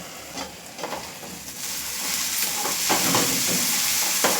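Bun dosa batter cooking under a lid on a medium flame, giving a steady soft sizzle and hiss that swells slightly partway through, with faint scattered crackles and no voices.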